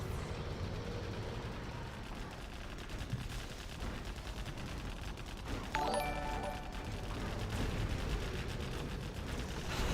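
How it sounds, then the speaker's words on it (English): Artillery barrage in the real-time strategy game C&C Zero Hour, a continuous rumble of gunfire and explosions with a sharper crash near the middle, dense and unbroken over the whole stretch. "Nice arty barrage."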